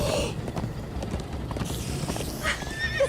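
In the Minecraft: Story Mode video game, horses gallop with rapid clip-clopping hooves and a neigh breaks out near the end, loud and close in a busy game mix.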